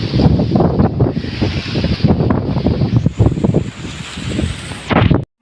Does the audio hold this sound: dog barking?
no